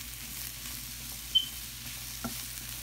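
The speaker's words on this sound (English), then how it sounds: "Just some sauteed spinach." Spinach sautés in a pan with a faint, steady sizzle. A couple of soft ticks and one small squeak break through the low hiss, and there is no talking.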